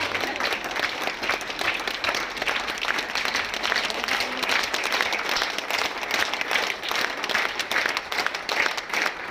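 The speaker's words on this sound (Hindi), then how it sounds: "जोरदार तालियों के साथ।" Sustained, vigorous clapping from a large gathering greeting guest B.L. Desai, an even, dense roar of many hands that holds steady for about nine seconds with no talk over it.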